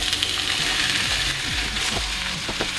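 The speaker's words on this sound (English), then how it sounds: "I'm going to add some oil, and I'm just going to add the peppers and the onion right to the skillet." Peppers and onion hit hot oil in a skillet and sizzle loudly and steadily, with faint stirring scrapes and bumps underneath and no talking.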